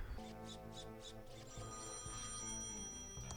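An out-of-order payphone in Thimbleweed Park rings in a run of rapid, evenly spaced electronic trills over a steady background music drone.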